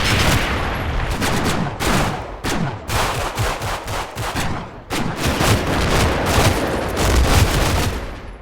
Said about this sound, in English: now the full firepower of my half-tracks can be brought to bear